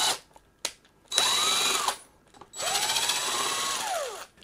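A cordless power drill whirs in two bursts as it backs screws out of the side of a gaming chair's upright, with its pitch rising and falling. Short clicks come between the runs.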